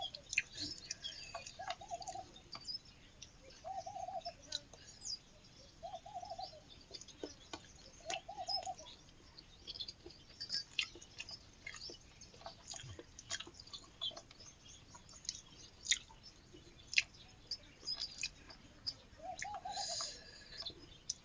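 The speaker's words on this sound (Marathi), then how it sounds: "मस्त चिवचिव चिमण्यांचा आवाज आहे" Sparrows chirp in short, faint, scattered bursts around trees in a calm outdoor setting, with soft cooing calls repeating every couple of seconds in the background.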